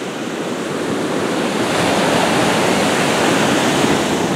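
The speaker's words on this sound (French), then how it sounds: "je suis ici sur le bord d'une plage" Waves wash onto a beach in a loud, continuous broadband roar of surf, steady throughout with no distinct breaks, heard alone without talk.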